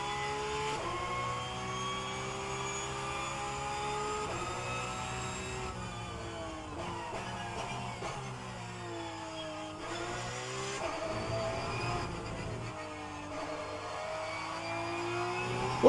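Touring car and Porsche Cup race car engines in the game rFactor 2 whine and rev at high pitch, shifting up and down as cars pass, with a brief tire squeal; no voices.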